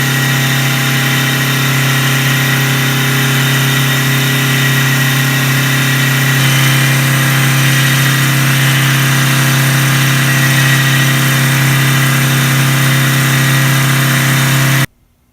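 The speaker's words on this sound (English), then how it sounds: "we'll be doing climb milling. I'm just going to take a light cut of about 2/1000, and I'm going to run at about 2000 RPM" A mini mill with power feed taking a light climb-milling cut at about 2000 RPM gives a steady, loud motor hum with a constant high whine, running unbroken for about fifteen seconds before stopping abruptly.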